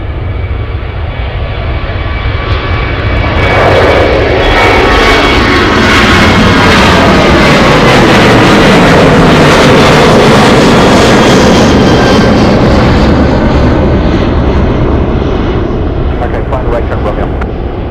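An Alaska Airlines Boeing 737 bound for King Salmon takes off at Anchorage airport, its jet engines swelling into a loud, close roar that sweeps in pitch as it climbs away.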